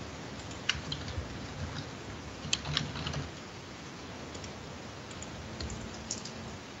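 Someone types on a computer keyboard, producing sparse, uneven key clicks and taps, close but faint, over a low background hum, with no voices.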